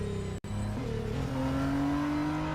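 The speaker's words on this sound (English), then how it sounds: "I am loving the engine noise." A Radical RXC race car engine in the Real Racing 3 mobile game, a steady, rising engine whine as the car accelerates, with a brief cut near the start, then climbing tones that continue to the end.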